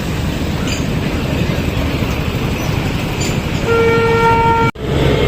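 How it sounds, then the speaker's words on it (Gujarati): A train moves slowly past, its steady rumbling roll heard up close before a sustained horn sounds near the end, followed by an abrupt cut. "રેલવે ધીમે ધીમે જાય છે"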